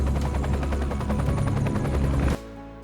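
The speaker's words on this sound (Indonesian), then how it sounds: "tiba-tiba helikopter datang" A helicopter arrives with a loud, rapid rotor thump and engine roar that pulses steadily, then cuts off abruptly.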